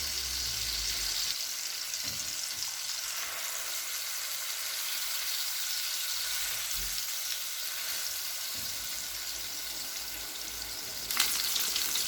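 Fish frying in oil on a flat tawa pan over low flame, a steady close hiss and sizzle throughout with occasional small crackles and a brief scrape near the end, no talking.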